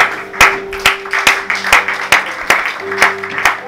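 A church congregation claps in steady rhythm to acclaim God during a worship service, the sharp claps falling about twice a second over a sustained keyboard tone, with faint voices mixed in.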